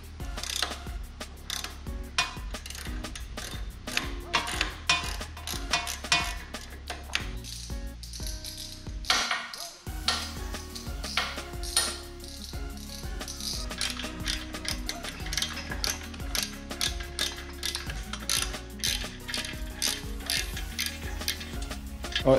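Close, continuous ratchet clicking while header pipe bolts are loosened on a Harley-Davidson Sport Glide exhaust, quick rhythmic ticking strokes with a brief pause midway.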